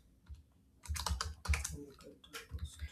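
Someone types code on a computer keyboard in a rapid run of close, crisp key clicks with brief gaps, fairly loud and with no voices.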